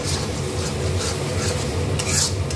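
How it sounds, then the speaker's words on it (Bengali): Young goat meat being stirred and pan-fried with red chilli, turmeric and salt, giving a loud, close, continuous scraping and rubbing of a spoon through thick spiced meat with a faint sizzle underneath and no talking. "এবার একটু ভালো করে আমি কষিয়ে নেব।"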